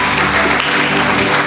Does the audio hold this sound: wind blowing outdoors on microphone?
no